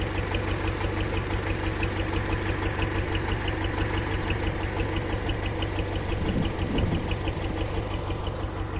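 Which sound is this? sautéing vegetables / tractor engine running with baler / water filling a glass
tractor engine running with baler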